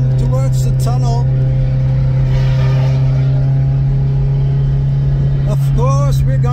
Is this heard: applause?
no